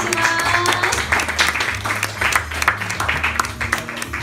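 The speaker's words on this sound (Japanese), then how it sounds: "今一度皆様に大きな拍手をお願いいたします" Applause from guests at a wedding reception, a dense wash of clapping that runs throughout, with a low musical backing and some murmur underneath.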